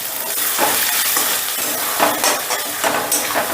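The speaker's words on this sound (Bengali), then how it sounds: "এবার টমেটোটা দিয়েও 2-3 মিনিটের মতন কষে নেব।" Tomato and spice masala sizzles and fries in a pan for stuffed pointed gourd with chicken, with steady broadband sizzle and a few soft scraping stirs of a spatula, close and moderately loud with no talk.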